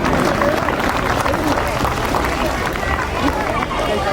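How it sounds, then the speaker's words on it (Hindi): Audience clapping loudly and steadily for child performers at a Ramleela opening ceremony, a thick continuous round of applause with crowd babble mixed in. "आप एक बार पुनः जोरदार तालियां बजा दें"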